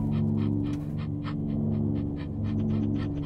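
A dog in a video game pants in quick rhythmic breaths, close and fairly loud over a steady low hum, alone without speech.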